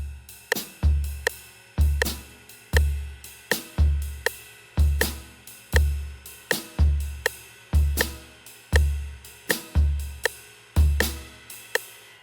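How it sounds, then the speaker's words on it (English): A shuffle drum pattern plays in a steady loop of kick and snare hits, with sharp, regular metronome clicks cutting through between the beats and no talking. "Let's hear that now with a metronome."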